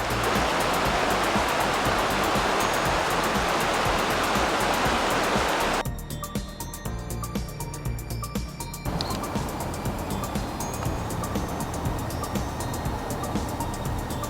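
The Skagit River, at the point where the Sauk River joins it in the North Cascades, rushes with a steady broadband roar that briefly drops and shifts in tone partway through before continuing.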